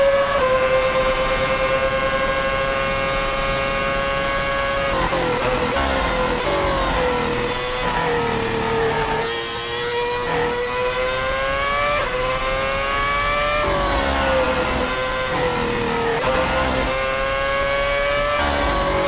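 A Formula 1 car engine in a racing video game at Suzuka whines loudly and continuously, its pitch rising and dropping through repeated gear changes and corner braking.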